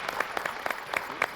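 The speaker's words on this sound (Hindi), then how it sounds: "एक बार बच्चों के लिए जोरदार तालियां बजाइए।" A brief burst of audience applause at a children's event on a stage show, scattered claps rising and falling over about a second and a half, close and fairly loud.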